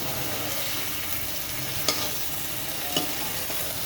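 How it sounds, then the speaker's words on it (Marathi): Hakka noodles tossed with Schezwan chutney hiss steadily in a hot pan, a continuous close sizzle broken by two sharp scrapes of the spatula. "परत परतून घ्यायचं छानपैकी."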